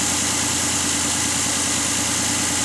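2008-era style Ford Escape 3.0L V6 idling with a cylinder 6 misfire, a steady close rumbling engine drone with a faint uneven pulse, loud and continuous with no speech.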